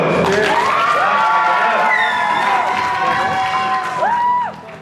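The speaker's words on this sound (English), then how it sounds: "Everybody clap it up for Baby Joe." An audience at the Pittsburg Prodigies showcase cheers, whoops and claps for a performer, a loud continuous crowd roar with shouted voices, fading sharply at the very end.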